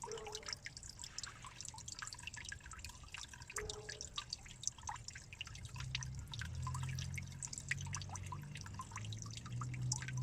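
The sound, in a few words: water falling and dripping into a fish pond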